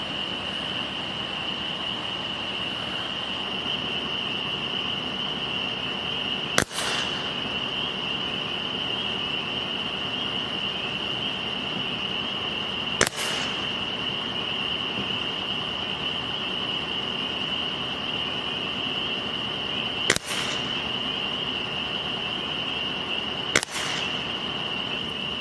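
Four sharp, brief air rifle pellet shots from Stoeger and Umarex rifles, spaced several seconds apart over a steady high-pitched hum, with no talking.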